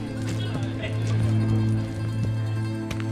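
Horse hooves clip-clopping in The Witcher 3: Hearts of Stone, soft irregular footfalls under a low steady drone and game ambience, fairly quiet and mixed into the scene.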